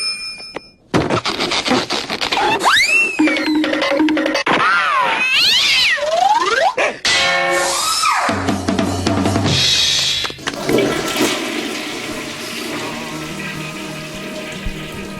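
Squeaky, rubbery balloon sounds stretch and squeal in rising and falling tones, mimicking cartoon noises, followed by a long buzzy, sputtering stretch.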